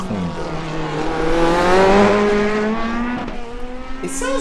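A race car in iRacing on a lap around Long Beach, engine note rising steadily as it accelerates and then easing off, heard loud and close with a brief tire chirp near the end.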